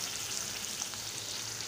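A spoon stirs chopped onion through hot oil for a jackfruit bulb curry, a soft continuous sizzle with a faint scrape or two, quiet and close.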